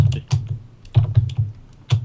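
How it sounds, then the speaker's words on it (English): Computer keyboard typing heard close up, a quick irregular patter of key clacks in short bursts with brief pauses between them. "I can hear your fucking keyboard"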